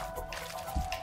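Water in the video game Never Alone trickles and gurgles in a short, steady wash as a character tries to go underwater against a current, heard alone at moderate level.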